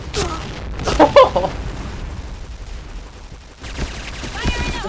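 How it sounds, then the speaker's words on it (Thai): Gunfire and explosions in the shooter game Point Blank, with a burst of rapid shots and a boom near the start, then continued scattered shots, while a player talks excitedly over the action. "ระเบิดระเบิดระเบิด"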